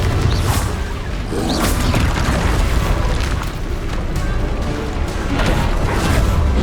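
A Confringo explosion spell in the Hogwarts Legacy video game, heard as loud, continuous booming blasts and rumbling bursts that stay dense and close throughout, with a few sharper cracks over the top.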